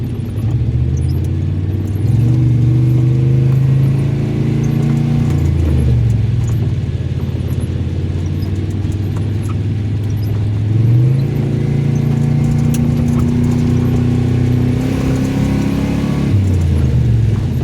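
A car engine runs steadily on a drive toward the Blvd Bridge and Eagleville, with drivetrain hum rising and falling through several uneven pitch shifts as it strains to settle into gear, loud and continuous with no talk.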